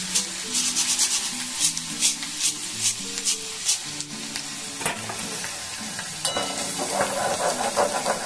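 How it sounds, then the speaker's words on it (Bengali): Dal fries in hot oil over a raised gas flame, giving a dense, continuous sizzle with scraping and stirring strokes throughout. A faint tonal layer runs underneath. "গ্যাসের ফ্লেমটাকে বাড়িয়ে দিলাম, ব্যাস এইভাবে দিয়ে দিয়ে দেখুন আমি কতগুলো ভেজে নিলাম"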